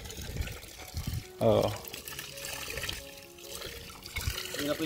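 Fresh, clear water gushes from a newly connected pipe with a kick valve, a brief loud burst of flow partway through, under ongoing talk and background noise.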